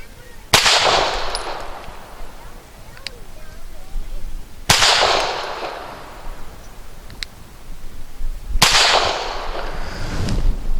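Arsenal Firearms Strike One pistol firing 150 grain rounds: three loud, sharp shots spaced about four seconds apart, each with a ringing decay, over quiet outdoor ambience.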